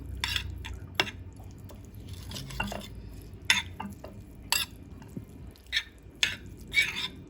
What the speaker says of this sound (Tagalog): And then, mix lang natin.